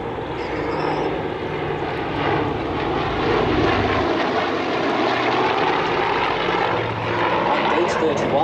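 Vintage aircraft in a slow, low turn at the Biggin Hill airshow, its steady engine and propeller drone holding loud and continuous throughout, with crowd noise and a commentator's voice mixed underneath.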